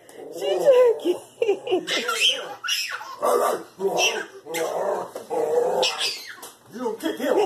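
A dog whimpers and yips in short bursts amid a lively room, with people talking and laughing loudly over it throughout.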